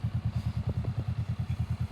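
A 2023 Honda Rebel motorcycle riding along, its engine giving a quiet, steady rapid pulsing thump with a few faint clattering knocks, fairly close and alone.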